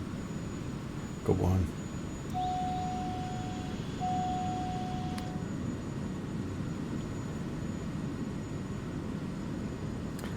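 A steady aircraft engine drone runs throughout a touch and go in a flight simulator game, with a couple of short cockpit warning tones and two people speaking briefly over it.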